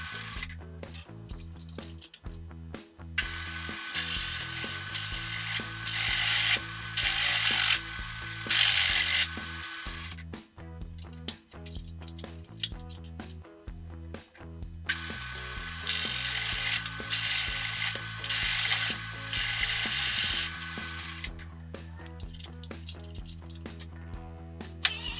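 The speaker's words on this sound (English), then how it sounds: "I'm using a hole saw and a milling machine." Hole saw cutting into a part on a milling machine, a steady loud mechanical grinding and chattering with two long cutting passes separated by a brief lull, no voices.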